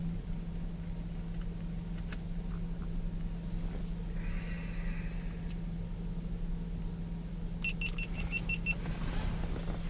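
Steady road and engine hum of a car driving along Stevens Road through an intersection in Clermont, with a low constant drone throughout and a few faint beeps and tones near the end, no talking.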